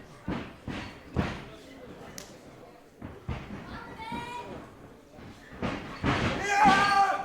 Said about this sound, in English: The clothesline taking him down.